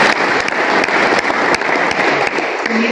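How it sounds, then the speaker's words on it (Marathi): Loud applause from an audience at a village award ceremony for third place, a dense, vigorous crowd clapping with sharp individual claps popping out, sustained at full strength. "जोरदार टाळ्या."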